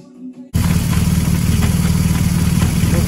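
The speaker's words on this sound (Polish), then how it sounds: "Rozgrzewam motocykl, właśnie odpaliłem" A BMW R 1200GS Adventure motorcycle fires up during an oil-filter service after a quiet half second, then settles into a loud, steady, pulsing idle up close.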